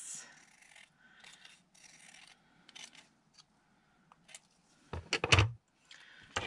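Scissors trim a paper doily for a December Daily snow-woman craft page, giving faint intermittent snips and paper rustles with a louder, sharper burst of cutting near the end.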